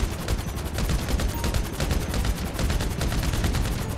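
Loud, rapid automatic gunfire from GTA V in dense, continuous bursts, with no pause for several seconds.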